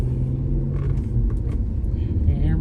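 An Audi S4 creeps slowly up a steep neighborhood incline, its engine giving a steady low rumble close by, with faint voice-like sounds above it.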